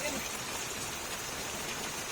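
Steady rain falls on a rainy village day, a soft, even hiss of drops with no breaks.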